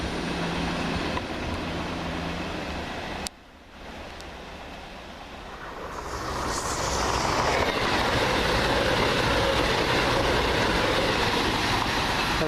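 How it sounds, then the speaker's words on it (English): A passenger train on the Manchester Piccadilly to Paignton service rolls past, starting as a steady distant rumble, briefly dipping, then swelling into a loud, sustained roar of wheels on rail with no talk over it. "There goes 1 Victor 59 from Manchester Piccadilly through to Paignton."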